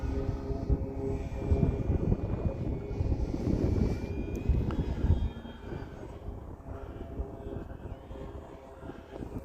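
A full-size airplane engine drones overhead, loud at first and then fading, with gusts of wind buffeting the microphone.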